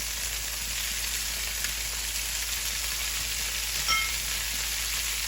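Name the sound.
garlic and sliced onions frying with browned chicken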